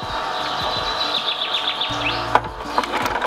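A Green Star Elite juicer processes alternating fruit and cashew nuts for a tomato sorbet, giving a continuous grinding, creaking whine with squeaky scraping and a sharp crack near the end.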